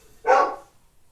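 A single sharp bark from a female dog at the door of a house, fairly close and loud, then quiet.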